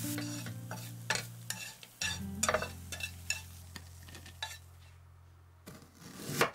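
Washed phở ingredients dry-roasting in a pan, repeated scraping and clattering stirs over a low hum, close and busy, fading to near quiet before a final scrape.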